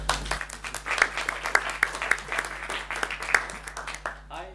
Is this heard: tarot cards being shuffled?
no